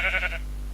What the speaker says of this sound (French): Avec des bruits de moutons.